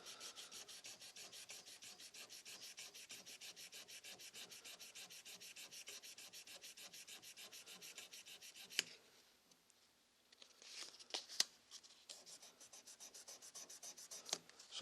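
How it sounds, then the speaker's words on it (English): Brass knife bolster edges on a dagger are buffed against a polishing buffer, giving a steady, close rubbing hiss with fast rhythmic pulsing for about nine seconds before it stops and a few light clatters follow. "I'll touch them on the buffer."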